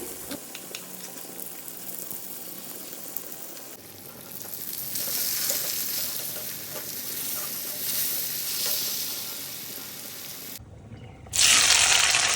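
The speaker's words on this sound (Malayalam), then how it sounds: "ഞാൻ മീൻ വറുക്കാനായിട്ട് എണ്ണ ഒഴിച്ച് വെച്ചിട്ടുണ്ടായിരുന്നു അപ്പോൾ മീനും വറുത്തെടുത്ത്" Fish fries in hot oil with a steady, loud sizzle that swells after a few seconds, brief stirring noises and a sharp burst of sizzling near the end.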